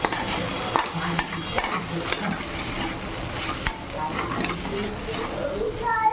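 Soft sabudana khichdi with green chillies is stirred in a kadhai over the flame, a spoon scraping and tapping the pan in irregular knocks above a continuous low sizzle.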